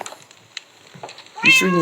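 A domestic cat lets out one clear, drawn-out meow near the end, after a quiet stretch of faint clicks and small noises.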